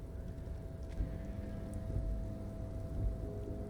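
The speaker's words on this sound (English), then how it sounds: "oh, it's raining." Rain in the video game Disco Elysium, a steady low patter and wash of rainfall with a droning ambient hum and a few soft thumps, no speech.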